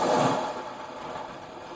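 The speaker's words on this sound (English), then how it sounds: "Here's calming sea waves." Calming sea waves from the Hyundai Palisade's built-in Sounds of Nature feature, a soft broadband wash that swells briefly at the start and then settles into a steady, gentle surf with no talk.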